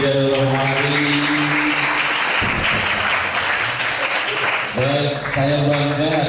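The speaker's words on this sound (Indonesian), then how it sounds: "sekali lagi tepuk tangan untuk delegasi dari Romani" Audience applause for a visiting student delegation at a school motivational event, a steady broad clatter of many hands filling the whole stretch, with a voice talking over it near the middle.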